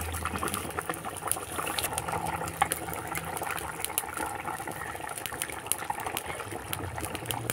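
Rui fish curry with ginger paste boils in a pot, a steady dense bubbling and popping with crackly spits throughout, close and even, no talk.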